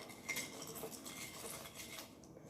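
Fried lemon ricotta doughnuts are tossed in a bowl of sugar and cinnamon, making a faint, continuous gritty rustle with light clinks of utensil against bowl, close and quiet with no talking.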